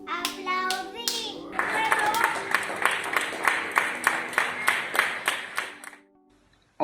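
People applaud from home at 8 pm during coronavirus lockdown: a steady run of rhythmic hand claps lasting several seconds, with a voice briefly heard at the start before the clapping fades to quiet.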